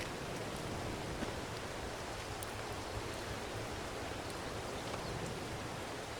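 Steady rain pours over a cozy bakery in a PS5 baking game, a constant even hiss of falling water that holds at the same level throughout with no voices.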